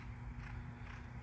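Racehorse hooves clip-clop during a morning workout on the track at Saratoga, heard as a soft, steady, muffled rhythm of hoofbeats at a distance with no talking.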